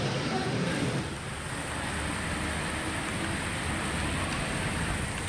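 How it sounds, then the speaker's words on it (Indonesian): Heavy rain falls at Merak port in Cilegon, Banten, a steady broadband hiss of downpour that holds at an even level throughout, with no voices. "Pelabuhan Merak, Kota Cilegon, Banten diguyur hujan deras."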